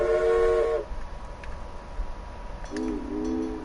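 Steam train whistle from the video game Railway Empire, a loud chord-like blast sounding twice: a short burst, a gap, then a longer second blast, over a steady background hum.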